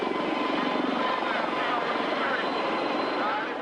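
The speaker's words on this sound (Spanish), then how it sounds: "Ceausescu huyó en helicóptero." A helicopter's rotor and engine roar steadily and loudly at close range, a dense continuous thrum of Nicolae Ceausescu's escape helicopter lifting off.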